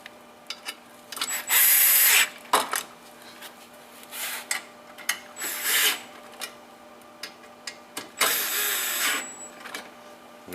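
Screws are driven down on the back roller assembly of a 1380i DTF printer: several short bursts of whirring and rasping, some held for a second or more, separated by quiet gaps and small clicks.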